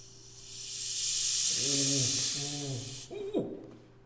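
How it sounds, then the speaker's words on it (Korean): Sparkling traditional Korean rice liquor fizzes with a steady, broad carbonation hiss that fades out near the end, while voices talk over the middle. "진짜 완전 탄산 콜라 따는 소리 나는데요"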